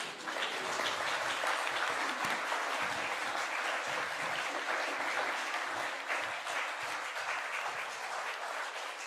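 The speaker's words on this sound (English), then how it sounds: "We can clap them on their way." A church congregation applauds new members returning to their seats, a continuous, even wash of many hands clapping for about nine seconds, moderately distant and without voices over it.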